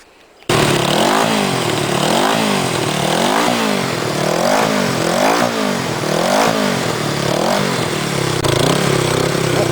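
A 33-year-old Honda CB360 motorcycle engine catches after a brief silence and runs loud and close, revved in a steady series of rising and falling surges for the rest of the clip.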